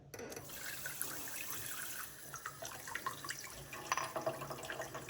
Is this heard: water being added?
yes